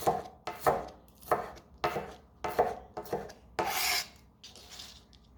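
A knife chops through onion on a board in quick, uneven strokes, about eight distinct crunchy cuts close by, one longer scraping pass among them, no talk.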